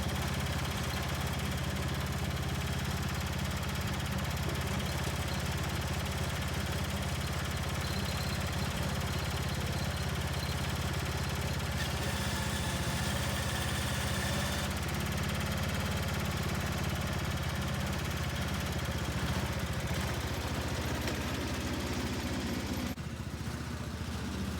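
An antique Bolens H16XL garden tractor engine runs continuously with a steady mid-pitched drone and vibration, fairly distant and even throughout, cutting off abruptly near the end with no voices.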